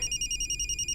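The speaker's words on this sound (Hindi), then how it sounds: "ससुर जी का फोन है।" A telephone rings with a bright, warbling electronic tone, steady and moderately loud, alone for just under a second.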